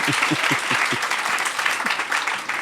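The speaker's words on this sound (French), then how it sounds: "l'applaudit s'il vous plaît" Audience clapping fills the room, a steady dense patter of many hands at moderate loudness, with a few low vocal bursts near the start and no clear talk.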